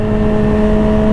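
A Yamaha motorcycle engine, either a 2020 R6 or a 2013 FZ6R, holds a loud steady humming drone inside a tunnel for about a second, with no talking.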